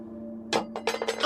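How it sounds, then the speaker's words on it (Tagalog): A metal spoon drops onto a hard floor indoors, giving a sharp close clink followed by several quick rattling bounces. "Nahulog ko po yung kutsara."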